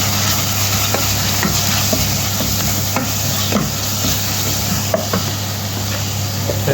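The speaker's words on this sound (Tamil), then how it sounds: "மிளகா மசாலா போட்டுவோம் நல்லா வதக்குவோம்" Chili masala sautéing with boiled green peas in a pan for sundal, a constant loud sizzle under repeated scraping stirs and taps of a spoon, close up with no voices.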